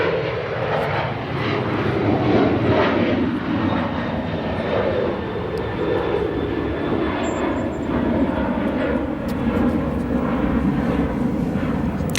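An airliner departs from Chicago O'Hare International Airport, its jet engines making a loud, steady roar that swells and holds throughout, with no voices over it.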